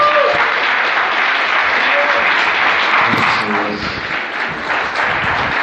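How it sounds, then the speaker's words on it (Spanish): Congregation applauding during a church service, a sustained loud wash of clapping from many people that continues throughout, with voices mixed in toward the end. "Dale un aplauso a Jesús."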